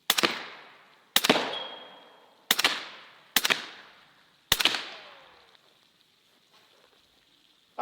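A Steyr AUG bullpup rifle fires five loud, sharp single shots about a second apart, each trailing off in a ringing echo, followed by a short quiet stretch.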